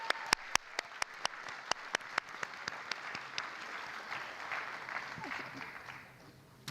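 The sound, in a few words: audience applause for dancer at arangetram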